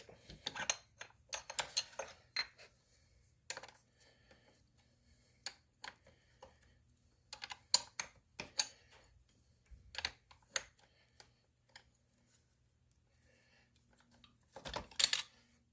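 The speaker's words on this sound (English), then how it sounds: "I'm using two 13mm wrenches. I'm going to snug that up" Two 13mm wrenches snug a nut and bolt on the shifter bracket of a 2013 Can-Am Outlander Max 500. Sparse, light metallic clicks and taps come in small clusters, separated by quiet gaps.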